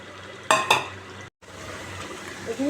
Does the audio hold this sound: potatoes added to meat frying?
yes